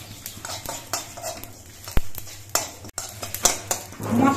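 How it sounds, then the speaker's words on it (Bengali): Dry chillies, whole cumin and poppy seeds roasting in a wok for a water spinach dish, stirred nonstop with a metal spatula that gives repeated clinks and scrapes against the pan. The sounds are close and fairly loud, with no talk. "ভাজার সময় কিন্তু অনবরত নাড়তে হবে"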